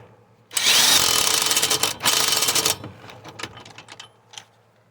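An electric impact wrench runs lug nuts snug on a 2018 Nissan Versa during a front brake pad change, giving two loud rattling bursts of about two seconds each, followed by quieter clicks and handling clatter.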